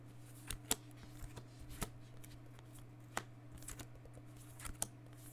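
Pile shuffling of a MetaZoo trading card deck: quiet, close, irregular taps and slaps of cards being dealt into piles, over a steady low hum, with no talking.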